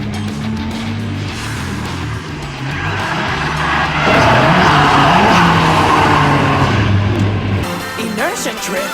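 A car engine roars at high revs while tires screech through a long drift at Talladega, the noise swelling loud and then fading.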